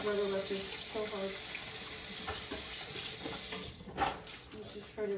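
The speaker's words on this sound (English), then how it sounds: "You just try to rinse it with too much water running." Kitchen tap running into a sink while someone rinses dishes during home dinner cooking, a steady soft hiss of water with clinks and small handling noises, fairly quiet throughout.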